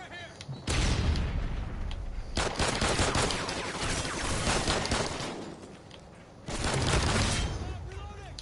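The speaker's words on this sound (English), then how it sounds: "I'm taking fire over here." Sustained video game gunfire, dense rattling bursts of automatic weapons and booming shots nearly continuous, easing briefly before another loud volley, with a voice speaking over the battle.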